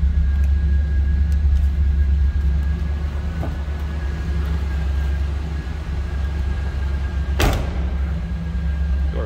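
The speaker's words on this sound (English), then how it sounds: "Door closes nicely." A 1988 Pontiac Firebird Trans Am engine rumbles steadily at idle, then one solid door slam thumps shut near the end.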